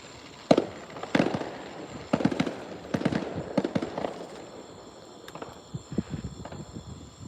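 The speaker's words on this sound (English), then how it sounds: "Popping them fireworks on the 4th." Fireworks popping during a Fourth of July night, heard from a balcony: a series of sharp, loud bangs at irregular intervals, then a busier stretch of smaller, quicker crackling pops.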